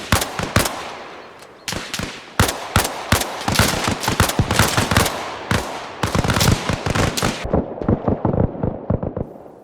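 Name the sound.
PKM machine gun firing in video game Arma Reforger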